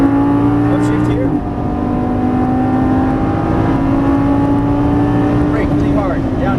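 Lamborghini Gallardo Superleggera LP570-4 engine pulling hard on a racetrack, a loud steady droning roar close to the car, a brief dip around a shift, with someone talking over it throughout.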